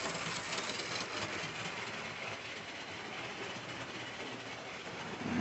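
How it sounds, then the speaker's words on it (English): OO gauge model trains, including a Royal Scot locomotive, run on the layout with a continuous close-up whirring rumble of motors and wheels on track, with a few quiet spoken words. "Just trying to moderate the speeds of the trains here. To keep them going, but I don't want them going too fast."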